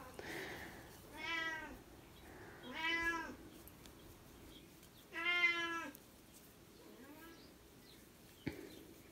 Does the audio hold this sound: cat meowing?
yes